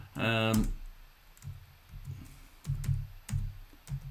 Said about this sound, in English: I am actually typing as I go through.